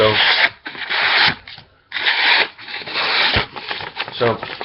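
A Frost Cutlery Little Black Talon knife slices through material in several loud, rasping strokes separated by short pauses, close and dry, with brief talk mixed in.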